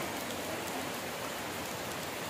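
Rain falls steadily outdoors as an even, dense patter and hiss, with no individual drops standing out and no one talking.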